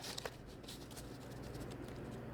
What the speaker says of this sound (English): even with this linen stock, I can overhand shuffle this deck